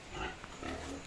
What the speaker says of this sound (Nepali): यो हो बाउ सुँगुर